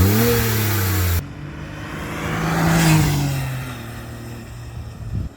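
An inline three-cylinder, turbocharged sports car engine revs up close, first a brief loud blip and then a slower rise and fall in pitch as the throttle opens and eases off.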